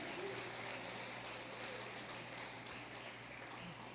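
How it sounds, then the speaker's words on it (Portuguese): Dense, distant applause from a church congregation fills the room as a continuous wash of clapping with a low steady hum underneath. "Desde já você pode mais uma vez aplaudir ao Senhor"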